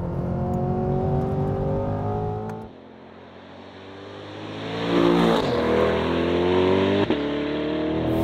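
A mid-engine Chevrolet Corvette C8 3LT Z51 revs hard and climbs through the gears on a circuit, easing off briefly mid-run before surging again, loud and close with no voices.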